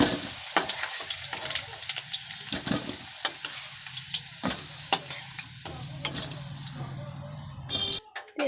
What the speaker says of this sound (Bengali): তো এখন আলুটা পুরোপুরি ভাজা হয়ে গেছে,